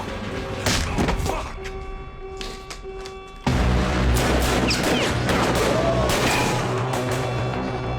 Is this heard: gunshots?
yes